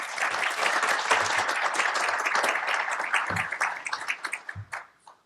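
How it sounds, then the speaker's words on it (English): Audience applause fills a morning program session at a CIO-themed event, a dense steady wash of many hands clapping that tapers off into scattered claps near the end. "Big round of applause"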